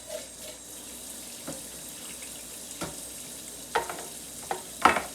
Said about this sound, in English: take the other can and just pour it into this one